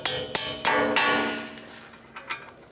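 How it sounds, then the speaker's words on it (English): Sharp metallic hammer blows drive a bolt out of the front suspension of a 2013-2019 Ford Escape during catalytic converter work, four close strikes in quick succession, then a pause and a couple of lighter taps. "So I'm just going to go ahead and hammer it out."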